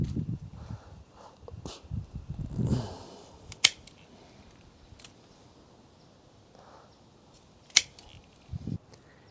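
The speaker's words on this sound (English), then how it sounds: "we're going to just cut above that node, just like that" Pruning shears snipping stems on a Rose of Sharon (Hibiscus syriacus) shrub outdoors, with two sharp, close clicks of the blades several seconds apart amid soft rustling of branches.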